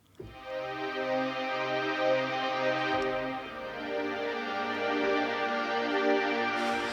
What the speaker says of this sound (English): so they sound like a couple of strings playing on ensemble